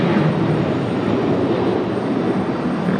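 A FedEx cargo plane arriving at Raleigh Durham airport, its engines a steady, fairly loud broadband roar that holds constant throughout, with no voices.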